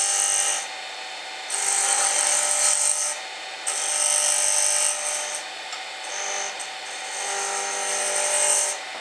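A woodturning tool cuts into wood spinning on a lathe. Several scraping, hissing cutting passes come and go over a steady motor hum, close and fairly loud, with no talking.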